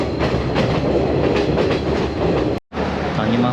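Passenger train on the Kandy to Ella line in Sri Lanka, heard from inside a carriage: a loud steady roar with rhythmic wheel clatter, briefly cut by a sudden drop before resuming.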